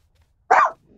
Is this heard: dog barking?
yes